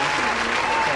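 A crowd applauds in the video game GTA 5 after a Titan plane lands on Mount Chiliad: dense, steady clapping that stays loud for about a second.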